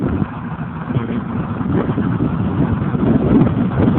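A new tractor's engine runs steadily outdoors, a continuous low rumble with some wind buffeting, loud and close throughout with no talk.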